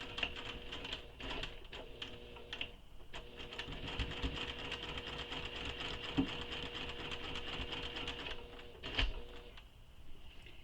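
A domestic sewing machine runs in a steady mechanical whir while stitching a fabric toy over marked holes, with brief pauses and a few clicks, close and moderately loud.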